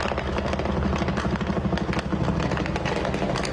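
Police helicopter hovering overhead during an armed operation against drug traffickers in Rio de Janeiro, with a steady, loud rotor drone and engine rumble throughout, close and continuous.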